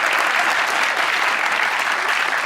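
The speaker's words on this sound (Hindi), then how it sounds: "इनके अब्बा के लिए तालियां।" A TV talk show studio audience breaks into steady, loud applause, a thick, even roll of many hands clapping that holds from start to finish with no break.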